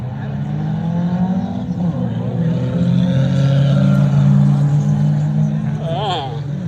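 Drag race launch of a Toyota Tacoma against a Honda Civic at a street legal dragway: loud engines rev and roar as the cars pull away, with a voice commentating over the engine noise.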